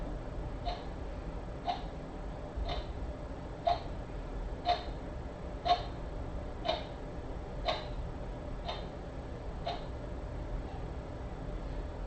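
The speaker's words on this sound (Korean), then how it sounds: "시계입니다." A clock ticks steadily about once per second, faint and even, twelve or so crisp ticks with nothing else over them.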